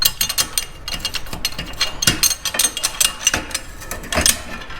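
Rapid clicking of a ratchet driving a 1/2-inch socket on the exhaust clamp of a 2017 Harley Ultra Classic 107, heard close up in repeated bursts of ratcheting strokes with short pauses between them.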